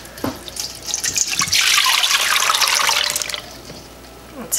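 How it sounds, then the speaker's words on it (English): Four cups of water poured into an Instant Pot over corned beef, a close, steady splashing gush that swells for about two seconds before trailing off into drips. "Put the water in"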